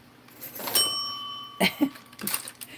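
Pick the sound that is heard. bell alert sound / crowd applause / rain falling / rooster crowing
bell alert sound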